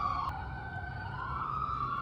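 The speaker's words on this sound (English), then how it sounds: "we have ambulances and sirens" A distant siren wails steadily with a rising, falling tone, faint and continuous over low traffic rumble.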